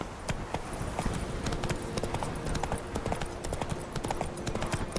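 Roach, a horse in the video game The Witcher 3, trots with a rapid, steady clip-clop of hooves over a continuous dense background, with no voices.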